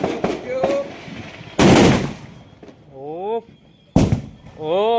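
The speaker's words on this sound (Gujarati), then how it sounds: "આપણે બધા ફટાકડા ફોડી ગયા છે" Diwali firecrackers let off by a family: two sharp, loud broadband bangs about two seconds apart, with excited voices talking and calling out between the blasts.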